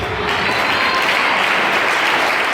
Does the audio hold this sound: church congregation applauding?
yes